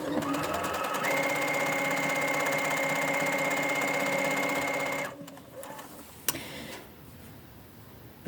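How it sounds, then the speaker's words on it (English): A sewing machine running a straight stitch seam, a steady fast mechanical whir for about five seconds, then stopping with a few small clicks and handling noises. "we're going to sew a seam with a straight stitch"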